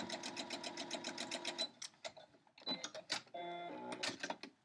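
A sewing machine runs a quarter-inch seam on a quilt block, a fast steady stitching rhythm for about two seconds, then stopping and restarting in short bursts, close and clear with no talk.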